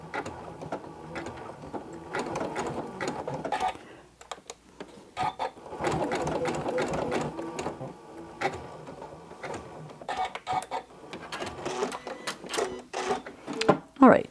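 Sewing machine running in repeated bursts while stitching around the edge of a cloth napkin with a decorative edge, with pauses and handling noises between the runs.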